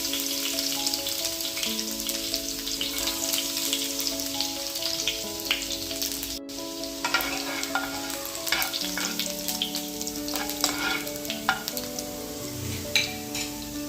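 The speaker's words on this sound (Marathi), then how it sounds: "सर्वप्रथम आपल्याला गरम तेलामध्ये कापलेले लसण टाकायचं आहे" Chopped garlic frying in hot oil, with a loud, dense, continuous sizzle and crackle that stays close and steady throughout, broken by occasional sharper pops and stirring scrapes. A faint tonal hum runs underneath.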